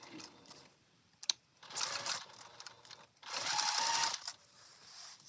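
A sewing machine stitches a mesh pocket onto a park bag in two short bursts of running stitches, with a sharp click between them and quiet pauses around them.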